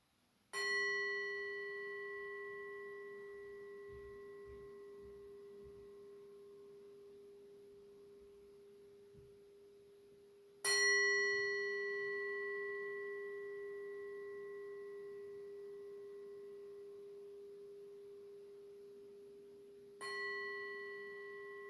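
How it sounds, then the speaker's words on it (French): A meditation bell opening an indoor yoga session is struck three times at even, slow intervals, each a clear, loud ring that sustains and slowly fades before the next strike. "on va retrouver notre habitude de début de séance en salle en sonnant la cloche 3 fois"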